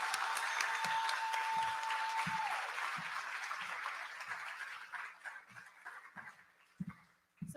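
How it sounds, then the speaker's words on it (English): Faint applause at a small gala watch party, a soft wash of clapping that thins out over several seconds, with a steady tone early on and scattered low thumps underneath. "clap for yourself"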